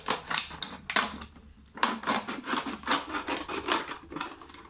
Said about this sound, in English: once I've made a little hole in it, then I can just use my scissors and just cut it up